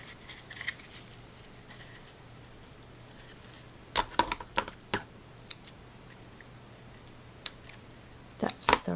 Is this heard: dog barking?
no